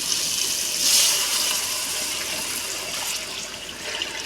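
Measured water poured into a cooking pot for bagara rice makes a steady rushing gush that swells in the first second, then settles into a continuous pour; no one speaks.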